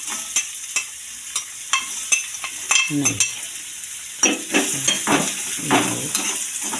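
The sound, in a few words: carrots sautéed in oil in a pan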